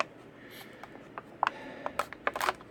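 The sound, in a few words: wood carving knife cutting open a card-and-bubble toy package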